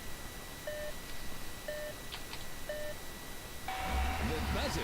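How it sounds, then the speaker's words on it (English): A buzzer in the Robot Arena video game sounds three short, evenly spaced beeps followed by a longer, louder tone that signals the start of a match, with an arena rumble rising beneath it. "The buzzer signals the start of the match."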